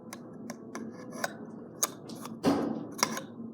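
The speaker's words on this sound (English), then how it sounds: "now we can try to use the scissors" Scissors snip at the fan of a small battery-powered mini hairdryer, giving a series of sharp, irregular clicks and crunchy cuts close up in a quiet room, with no talking.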